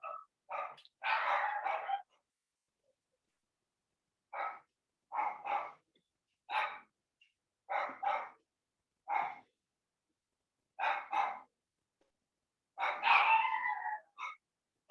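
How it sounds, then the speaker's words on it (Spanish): Small pet dogs barking in short excited bursts, with clusters of yaps separated by brief pauses. They sound fairly close, and no one speaks over them. "Mis perritos se vuelven locas."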